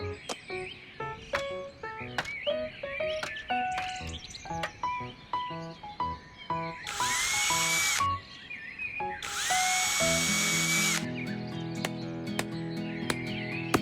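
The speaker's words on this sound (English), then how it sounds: "Hand me the drill, please." A power drill bores holes into a garden wall in an animated children's story, heard as several short whirring bursts between bright musical notes and light chirps.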